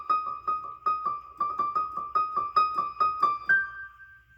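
A theme played slowly on a piano or keyboard: a steady, even run of about fifteen separate notes, mostly repeating the same pitch, ending on a held higher note, soft and alone.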